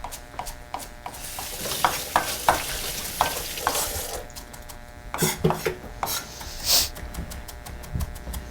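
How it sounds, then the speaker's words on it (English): Herbs and meat sizzle and fry in a pan while a utensil stirs and clinks against the metal, with scraping strokes and occasional louder crackles. "as soon as we get those herbs in here, we're gonna start sizzling"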